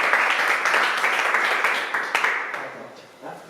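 Audience applause at a talk closing a Google Summer of Code 2019 review session, a sustained dense wash of clapping that holds steady, then thins and fades away toward the end.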